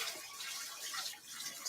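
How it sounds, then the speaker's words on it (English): Sweet potatoes being scrubbed under a running kitchen tap, a steady, soft hiss and splash of water with faint rubbing, continuous and fairly close. "I'm just going to scrub them under some running water"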